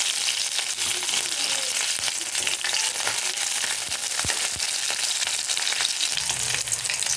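Green chillies fry in a pan with a loud, constant sizzle and crackle, close up and without talk, with occasional stirring knocks.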